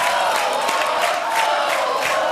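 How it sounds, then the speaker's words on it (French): Studio audience on a French game show cheering and whooping in a dense, loud, steady crowd roar with no break. "Et on applaudit Majid qui va nous quitter"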